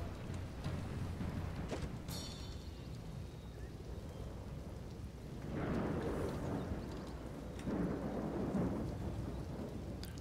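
A thunderstorm in the strategy game Europa Barbarorum: steady rain hiss with low rolling thunder that swells twice, fairly soft and unbroken throughout.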